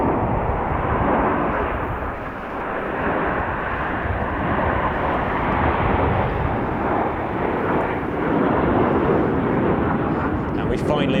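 Italian Frecce Tricolori display jets fly a barrel roll at the Royal International Air Tattoo, making a loud, continuous jet roar that holds steady throughout with a slight dip early on.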